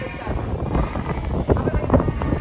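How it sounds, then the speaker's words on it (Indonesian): Strong gusty wind buffets a camera microphone outdoors at a school athletics lesson, a continuous low rumbling roar with louder bursts near the end. "Maaf ya, kameranya terjatuh, angin kencang."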